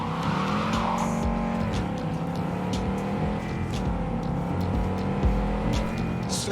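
A car in the Cyberpunk video game drives hard with a steady, loud engine drone and tires squealing through turns, sustained for several seconds with no talk over it.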